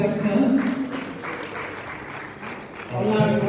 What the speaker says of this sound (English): A round of applause for Vector.